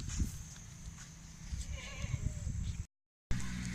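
Goats of the Amritsari breed bleat on a goat farm, several wavering calls over low background chatter and rustling, with a brief dropout near the end.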